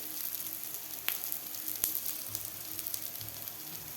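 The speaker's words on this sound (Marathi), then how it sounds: "दोन्ही साईडकडून आपल्याला व्यवस्थित हे मिडियम गॅसवर फ्राय करून घ्यायचे आहेत" Beetroot and potato cutlets shallow-fry over medium heat, giving a steady close sizzle and hiss of oil with a couple of sharp pops and crackles, no voices.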